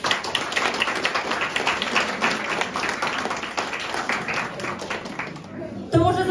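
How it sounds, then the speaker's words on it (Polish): An audience claps warmly to welcome a guest actor at a meeting, a lively, even round of applause lasting several seconds before it breaks off and a voice begins to speak. "wielkie brawa"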